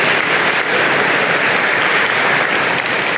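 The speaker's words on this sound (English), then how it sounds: "Give yourself a big round of applause." A large convocation crowd at a college of engineering and computer science breaks into loud, dense applause, a continuous roar of many hands clapping that stays level throughout.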